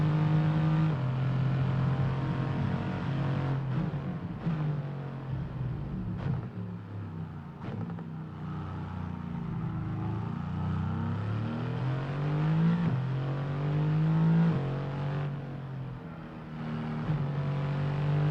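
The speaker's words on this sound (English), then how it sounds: "Does sound good from within the car though. Within the cockpit." An F1 22 race car engine in the video game, heard from the cockpit: a continuous loud engine drone that rises and falls in pitch with acceleration and gear changes, with no speech over it.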